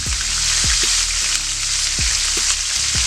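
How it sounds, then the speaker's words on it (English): Pieces of meat sear in a hot pan for barbacoa tacos, making a loud, close, steady sizzle broken by a few soft thumps as the pieces shift. "we're just going to sear those off"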